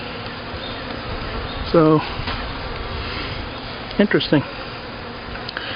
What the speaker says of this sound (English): we got a few bees on the lid